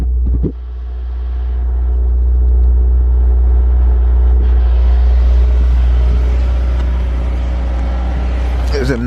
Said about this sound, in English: There's a nice little idle to it.